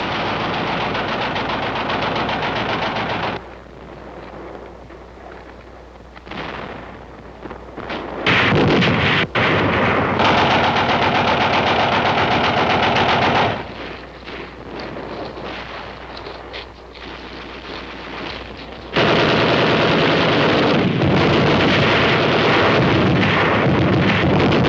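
Gunfire from guns dug into the Korean War hills roars in sustained, dense barrages that swell and ease in long stretches, with a wind-buffeted rumble and no voices.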